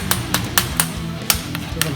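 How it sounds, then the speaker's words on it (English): A hammer strikes sheet metal held on a dolly, giving about eight sharp, ringing metallic blows in an uneven rhythm, close and clear over a faint background hum. "you don't want to stretch the metal by squeezing it in between the hammer and the dolly"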